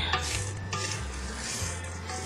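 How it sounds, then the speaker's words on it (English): A spatula scrapes around a mixing bowl of snickerdoodle dough, giving close, steady rubbing and scraping strokes over a low motor hum, with no talking. "scrape the bowl down, just to make sure we get everything"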